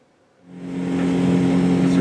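A boat engine starts up after a short quiet moment and settles into a steady, loud drone with a strong hum, running on the water of Saginaw Channel near Juneau, Alaska.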